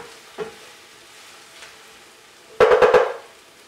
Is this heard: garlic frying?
yes